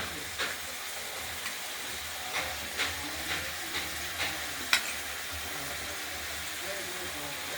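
Pieces of potato, onion, eggplant and beans fry in a pan with a constant soft sizzle, broken by several rhythmic scraping taps of stirring. A voice speaks over it.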